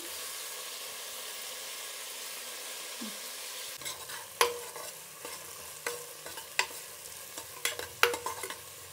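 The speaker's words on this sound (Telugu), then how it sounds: "ఇది బిన్నె వేగుతుంది టమాటా" Tomatoes fry with onions in a pan, giving a steady bright sizzle and hiss, with irregular scraping clatters of a stirring utensil joining after a few seconds.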